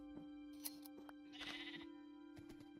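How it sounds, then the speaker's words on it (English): Sheep bleating in Minecraft, a short nasal baa rising over faint background clicks and a steady low hum, fairly quiet. "I spent some time shearing my sheep"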